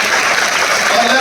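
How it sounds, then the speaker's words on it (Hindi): Audience applause fills a hall at a large business seminar gathering, a steady dense wash of clapping that stays loud throughout. "तालियां"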